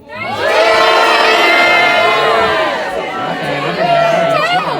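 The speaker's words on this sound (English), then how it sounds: "You need the audience to yell at you for maybe 5 seconds." A live audience yells and cheers loudly for about five seconds, a continuous roar of many voices with shrill whoops that fade near the end.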